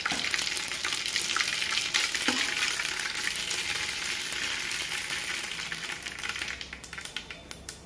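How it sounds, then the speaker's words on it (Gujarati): Mustard seeds crackle and pop in hot oil in a pan, a dense continuous sizzle with sharp snaps that thin into separate pops near the end, close with no talking. "દોઢ ચમચી રાઈ નાખીને બરાબર ફોડી નાખવાની"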